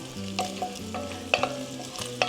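Pancetta fries in a hot, lightly smoking pan, giving a steady close sizzle with a few brief scraping stir strokes and small pops over its short length, no voices.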